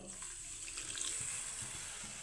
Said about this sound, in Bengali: ওই কাপ মেপে আমি সামান্য দিয়ে দিব জল